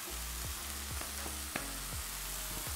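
Seasoned tofu frying in a pan with a soft, constant sizzle and occasional light clicks from stirring, fairly quiet and close.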